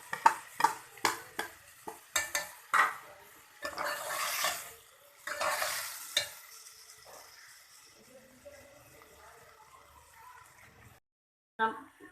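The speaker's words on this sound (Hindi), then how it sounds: "अब हम इसमें ये टमाटर जो हमने काटे थे ये डाल देंगे।" Chopped tomatoes go into a pan of browned onions. Sharp clatters and scraping come first, then a soft sizzle that surges twice and fades toward the end. There is no speech.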